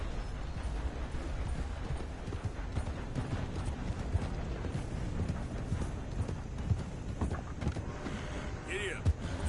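Horse hooves clip-clopping in Red Dead Redemption 2, a dense, irregular run of hoof thuds over outdoor game ambience, with a brief voice near the end.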